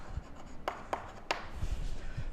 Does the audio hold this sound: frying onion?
no